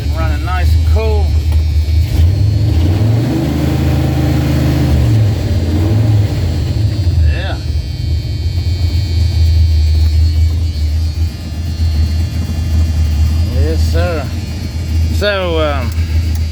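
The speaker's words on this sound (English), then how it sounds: "Engine running nice and cool." A Dodge truck engine idles with a steady low rumble and rises into a few revs, close and loud throughout, while someone talks over it at intervals.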